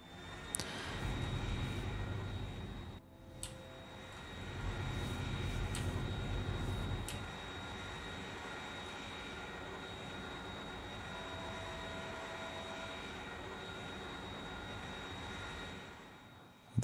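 A plane flies in the game Factorio with a steady droning engine hum, heavier in two stretches early on, then a lighter, even whir that continues to the end with no talk over it.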